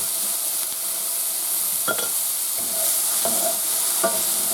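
Peas and carrots sizzle steadily in a hot pan for chicken fried rice while a utensil stirs them. A continuous frying hiss runs throughout, with scraping stir strokes every second or so and no talking.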